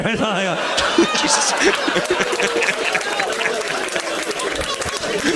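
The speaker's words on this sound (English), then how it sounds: "That's so funny that gets applause" Stand-up comedy club audience breaking into steady applause with scattered laughter and whoops, dense crowd noise lasting throughout with voices mixed in.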